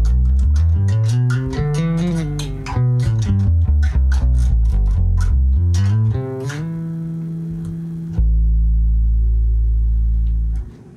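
Electric bass played high on the neck gives a smooth, synth-like sine tone, a loud close run of clean plucked notes followed by a long sustained low note that rings out and stops.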